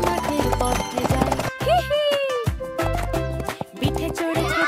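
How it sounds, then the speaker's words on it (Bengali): Horse hooves clip-clop in a steady, loud rhythm as a sound effect inside a bright children's alphabet song, with a whinny partway through and music playing throughout. "ঘুরতে ঘোড়া টাপ টাপ টাপ মাঠের পথে যায়।"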